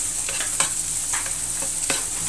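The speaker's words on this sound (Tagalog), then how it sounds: "Kailangan haluin." A chili dipping sauce with onion and garlic sizzles in a pan while being stirred, a continuous close frying hiss broken by a few light scrapes of the spoon.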